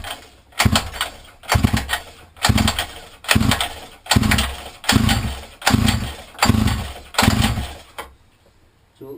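A mini quad engine with a starting fault sputters and surges in about eight rough, rhythmic bursts, each revving up briefly and dying back, before cutting out near the end; loud and close.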